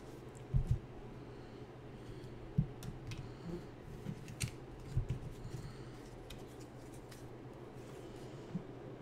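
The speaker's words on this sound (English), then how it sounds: "And I better cut the cards." A tarot card deck is cut by hand, producing a few soft, close clicks and light card slaps, scattered and faint over a quiet room hum, with no talking.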